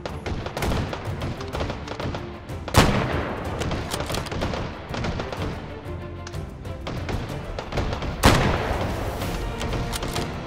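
Gunfire in the virtual-reality shooter H3VR, with two sharp, loud shots standing out over a busy, continuous backdrop of game noise and rumble, the reports spaced several seconds apart.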